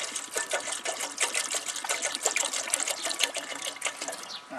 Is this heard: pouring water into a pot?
yes